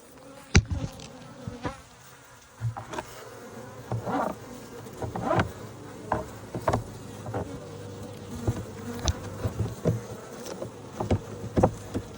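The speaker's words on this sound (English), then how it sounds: "as you see, the bees like to get in there" Honeybees buzz around an opened hive while a frame feeder is being reassembled, a steady close insect drone broken by scattered knocks and handling clatter, with no talk.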